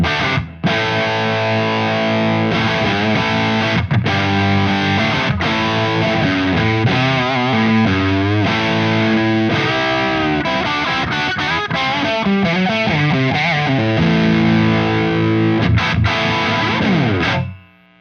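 High-gain distorted electric guitar through a Synergy Friedman DS preamp, playing loud sustained chords and riffs continuously with heavy saturation, alone without talk, ending abruptly.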